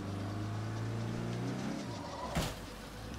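Engine of a car driven in the zombie survival game State of Decay 2, a steady loud drone that shifts pitch midway, with a sharp thump near the end.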